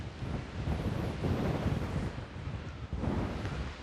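Strong wind buffets across an open golf course near Rochefort, a loud, continuous low rumble of gusts pounding the microphone with no pause.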